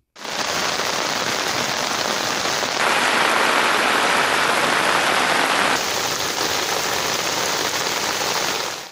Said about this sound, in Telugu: ఉదయం నుంచి తేలికపాటి వర్షాలు కురుస్తున్నాయి